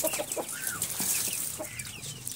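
A chicken clucks nearby in short, repeated bursts, with a few higher squawks mixed in against quiet farmyard background.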